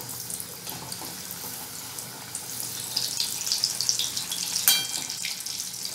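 Vadas for Mumbai vada pav frying in hot oil, a steady bright hiss of bubbling oil that grows louder and busier toward the end, with no voices.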